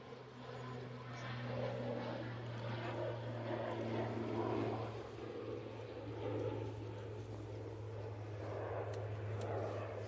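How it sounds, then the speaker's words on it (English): An Aer Lingus ATR turboprop at Manchester Airport starts up its propeller engine, a low, steady hum with a throbbing drone heard faintly at a distance beneath light background noise. "I can hear a prop starting up, so I'm guessing that's the... Oh, what is it?"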